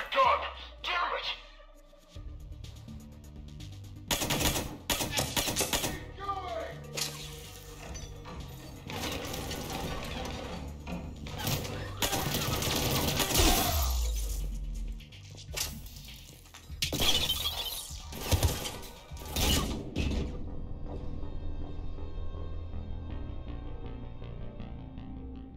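Gunfire during combat in Mass Effect 3, irregular loud sharp bursts and crashes mixed with mechanical game noise, with voices talking throughout.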